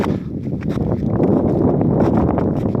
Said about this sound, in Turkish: Rüzgar sesini belki duyarsınız.